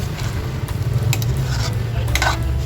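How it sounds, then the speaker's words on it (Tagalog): Chicken adobo simmering in coconut milk in a pan as it is stirred, a steady bubbling sizzle with soft scraping and occasional clinks of the spoon against the pan. "halu-haluin natin ulit"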